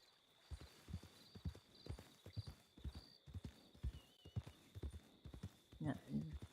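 Horse hooves clip-clop in Red Dead Online, a steady walking rhythm of soft thuds close by, with a brief whinny near the end and people talking over the sound.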